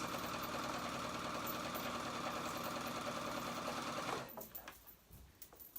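A sewing machine runs a long gathering stitch around the top edge of a dress skirt, a steady close whirring drone that holds for about four seconds and then stops, leaving only faint quiet handling.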